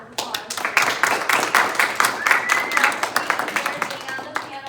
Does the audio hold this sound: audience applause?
yes